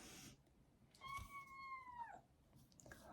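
A single clear meow from a cat, drawn out and slightly falling at the end, fairly close in a quiet room.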